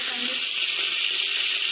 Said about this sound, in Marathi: आता फोडणीसाठी आपण 4-5 कढीपत्त्याची पाने घालू